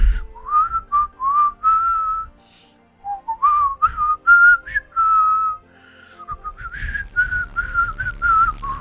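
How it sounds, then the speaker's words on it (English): A person whistles the I Am Bread main menu theme, a bright melodic tune in short phrases of rising and falling notes with brief pauses between them, close and clear with no other sounds. "I've been whistling it to myself when like doing dishes and whatever"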